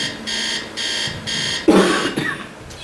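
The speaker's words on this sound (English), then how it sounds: "when that alarm clock went off for me" An alarm clock rings in three evenly spaced, buzzing bursts, loud and close, followed by a rough, cough-like noise and a few faint trailing sounds.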